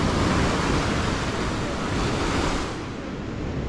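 Storm waves from the sea in Crimea surge and wash up against a seaside embankment, a loud, continuous roar of surf mixed with wind buffeting the microphone close by.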